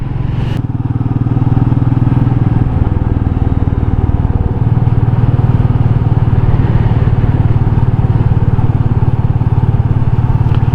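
Royal Enfield Meteor 350 motorcycle ridden on the road, its single-cylinder engine droning steadily and loud close to the listener for the whole stretch, with wind rumble and no talk.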